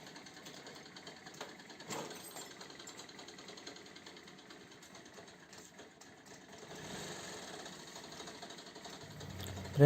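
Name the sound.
scooter engine idling with knocking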